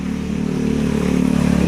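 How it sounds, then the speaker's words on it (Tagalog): A motorcycle engine running nearby outdoors, a loud, steady droning hum that rises slightly in level, with no voices. "Ang ingay naman ng motor"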